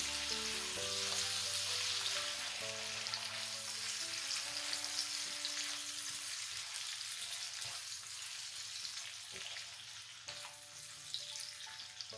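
Chicken chili fries in a pan with ketchup added and is stirred, giving a constant close sizzle broken by intermittent scraping and clinking from the spoon, with no talking.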